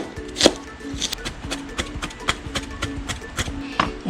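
Knife slicing fresh ginger on a cutting board while preparing chicken siomai, a quick run of crisp, regular chops, close and clear.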